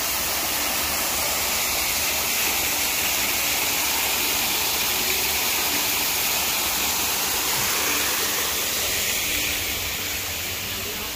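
Waterfall in the Guguan hot-spring area, a continuous dense rush of cascading water, loud and even throughout, with no voices.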